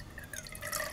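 Water poured from a beaker into a flask during a specific-heat lab, heard as faint, close dripping and trickling with bright splashes that build toward the end.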